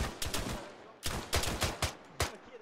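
Rapid bursts of gunfire in the military video game Arma 3 during a co-op close-quarters fight, several loud cracking shots in quick irregular clusters, close and punchy.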